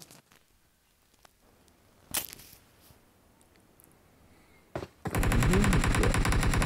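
Gunfire in the video game PUBG: a couple of isolated single shots, then a sudden loud, rapid automatic burst that continues to the end, with no talk.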